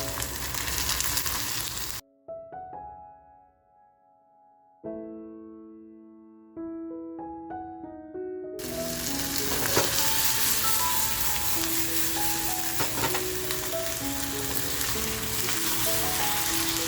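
Masala-coated mandeli fish frying in a pan: a loud crackling sizzle cuts to gentle melodic music, then bursts back in louder and steady as the fish goes into the hot oil, music continuing underneath.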